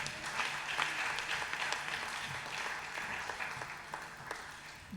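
A church congregation applauds with dense, sustained clapping throughout, fairly loud and close, with scattered sharper claps over a crowd wash.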